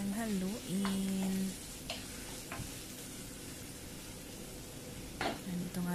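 Food is stirred in a hot pan with chili and coriander, a steady sizzle under scattered scraping strokes, with a voice speaking briefly over the start and end.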